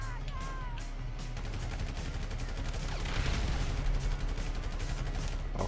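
Rapid gunfire from players in a Grand Theft Auto 5 Online dirt race, dense overlapping shots from several shooters, loud and continuous throughout, swelling toward the middle, with brief muffled talk underneath.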